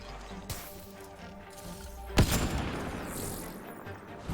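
Gunfire in the Mass Effect: Andromeda video game: a sharp shot near the start, then a louder booming headshot blast midway that trails off into a rumbling crash.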